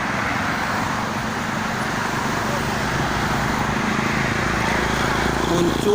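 Dense, slow-moving traffic on the Jakarta-Cikampek toll road produces a steady, unbroken roadway rumble of many cars, buses and trucks, with engine drone and tyre noise blending into one continuous wash.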